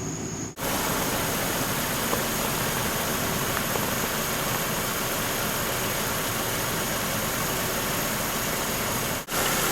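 A 124-horsepower Saturn car engine idles steadily, a loud, continuous broadband rumble with a constant hum, held close for nearly ten seconds with brief dropouts at the start and end, no speech.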